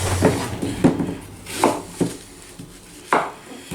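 Food chopped on a board for a soup alongside beer can chicken: several sharp knife strikes land at irregular intervals, close and fairly loud, with light clattering of kitchenware between them and no talk.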